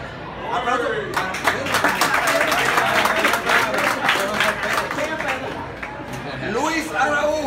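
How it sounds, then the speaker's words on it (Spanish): Crowd applause at a Dominican community leaders' meeting in Harlem, steady broadband clapping for about seven seconds with chatter and a voice speaking over it throughout. "Aplauso."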